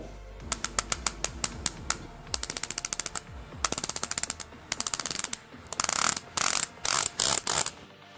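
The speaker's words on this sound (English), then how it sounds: "this is a 120 click bezel with an on and off type of sound" A Seiko Tuna SNE499 PADI dive watch's 120-click bezel being rotated by hand, giving crisp, loud ratcheting clicks in quick bursts of evenly spaced ticks separated by short pauses, close to the listener.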